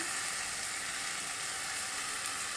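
Tomato fries in a pan with a dense, even sizzle that holds steady and close for the whole short stretch, with no voices over it.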